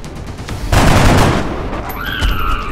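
Rifle fire from soldiers in XCOM: Enemy Unknown, a single loud, dense burst of shots that then trails off into a fading, ringing tail with a high tone at the end.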